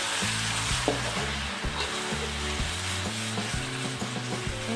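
Cassava leaves, fried alongside salted fish, sizzle and crackle in a pan while being stirred, with repeated scraping strokes over a constant close frying hiss.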